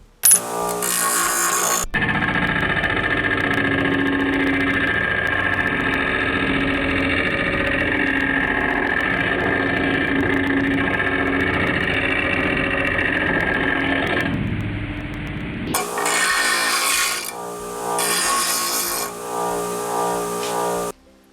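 A bench grinder whirs loudly and steadily while steel tabs are pressed against the stone, a long continuous grinding hum, ending with shorter rough bursts.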